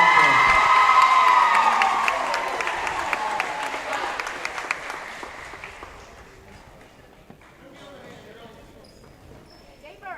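Crowd applause and cheering in a gym at a district girls' basketball game, loud at first and then fading over several seconds as the clapping dies down.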